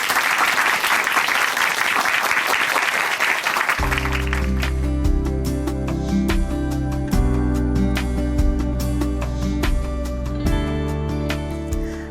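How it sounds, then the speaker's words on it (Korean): Audience applause welcoming a speaker, Korea's women's national football team player, at a church program. Dense clapping rings out alone at first, then continues more faintly under a sustained keyboard and music backing that enters partway. "박수로 모십니다"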